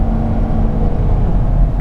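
A diesel truck engine held at full throttle, a steady, loud low-pitched rumble and roar that stays constant throughout without breaks, close by.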